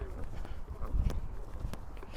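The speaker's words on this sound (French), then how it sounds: "il fait des petites foulées au galop parce que c'est plus facile pour lui" A horse cantering in small strides during dressage training, soft muffled hoofbeats in an uneven rhythmic pattern, moderately near, with faint background noise.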